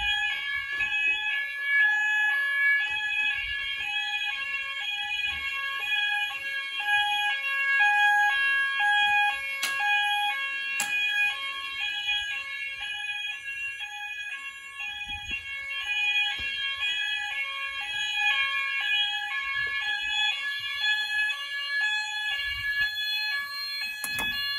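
Apollo XP95 fire alarm sounders pulse in a steady, repeating electronic tone pattern during a system test, set at reduced volume and heard fairly faint and continuous with occasional small clicks.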